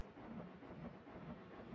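A train runs in the theme-park building game Planet Coaster, heard as a steady low rumble with rolling hiss, moderately loud and continuous with no speech over it.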